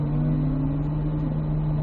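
A car accelerating toward braking cones during an ABS braking exercise, a steady droning engine hum at constant pitch, loud and close, no talk.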